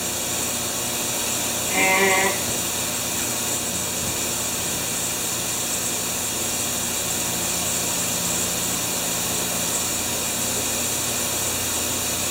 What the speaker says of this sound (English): This is a John Deere snowblower made by John Deere back in the 70s.